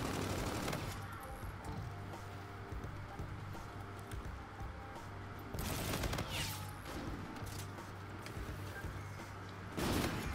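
Scattered gunshots and bursts ring out in a Call of Duty Infinite Warfare multiplayer match, a few sharp louder volleys standing out over continuous busy battle noise.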